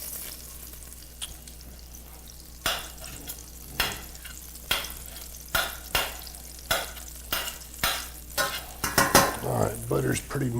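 Butter melts in a pan over high heat, a low sizzle beneath a regular series of loud spatula scrapes against the pan that grow busier and clatter toward the end.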